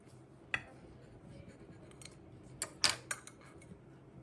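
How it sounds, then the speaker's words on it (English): Knife cutting into a baked Chinese cake, heard as faint scattered crisp clicks and scrapes, one early and a small cluster toward the end, in a quiet room. "I'm just gonna cut into one so that you see how delicious it looks from the inside"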